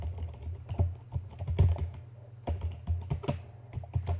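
Computer keyboard typing while entering text in CorelDRAW, a quiet, steady run of close key clicks in small bursts with brief pauses, no voices.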